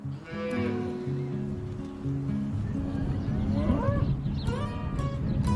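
Confined, corn-fed feedlot cattle moo loudly and repeatedly, several long overlapping calls filling the air.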